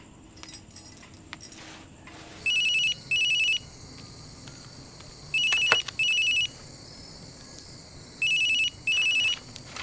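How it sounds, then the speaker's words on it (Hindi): A mobile phone rings in a household scene, three pairs of short electronic ring bursts repeating at regular intervals over low background noise, with no talk during the rings. "देखो तो फोन है किसका।"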